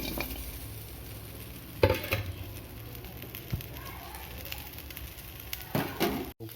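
Dry pork with bamboo shoots and king chilies is stir-fried in a pan, giving a steady low sizzle with occasional scraping and clattering stirs, close and moderately quiet.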